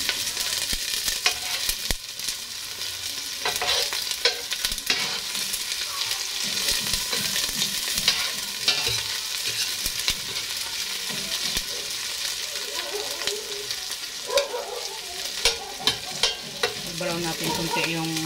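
Garlic frying in a pan gives a steady soft sizzle, with occasional stirring scrapes and clinks rising above it, close up and fairly quiet, with no talking.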